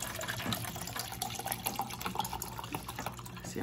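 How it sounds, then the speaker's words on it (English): Water poured from a bottle into a cup, a continuous close splashing trickle with small drips across the few seconds, with no talking. "So I'm gonna pour most of this water bottle"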